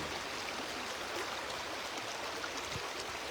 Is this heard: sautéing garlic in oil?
no